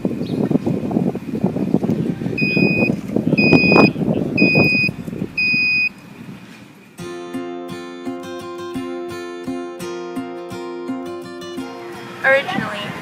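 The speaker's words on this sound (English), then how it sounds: "That way I would know when the box is open because I would be able to hear the alarm." An alarm on an Arduino-built box, set off when the box is opened, gives four short, sharp electronic beeps under background talk, followed by a sustained harsh buzzing tone.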